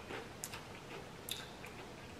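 Someone is eating grilled fish, chicken and shrimp tacos in tortillas, with soft, close, wet chewing and occasional crisp bites. The sounds are quiet and come at an irregular pace, with no talking.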